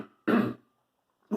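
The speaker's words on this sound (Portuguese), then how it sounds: "estou com um pigarrozinho aqui" A man clears his throat twice, each a short, close, gravelly rasp, the first longer and the second just starting, separated by a near-silent pause.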